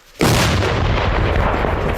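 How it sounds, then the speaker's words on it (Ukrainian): A single heavy artillery blast booms up close, its roar rolling on and slowly decaying without any speech. "Один снаряд вогонь! Армата! Постріл!"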